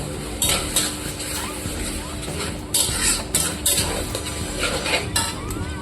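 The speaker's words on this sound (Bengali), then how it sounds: "আদা রসুনটা খুব সুন্দরভাবে কষিয়ে নেবো।" Ginger, garlic and green chilli paste is stirred and sautéed in a pan, with repeated close metallic scrapes and clinks of a spoon over a low, steady sizzle.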